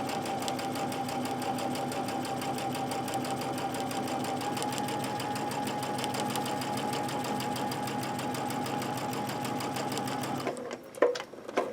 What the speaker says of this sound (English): Do 2 stitches and back stitch because you need one side to hold when you gather your fabric.